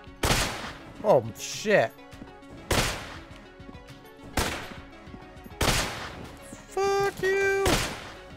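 Gunfire from the M1 in the dungeon-crawler shooter Enter the Gungeon: repeated loud, sharp game shots in bursts, mixed with chiming effects, with an excited voice swearing over them.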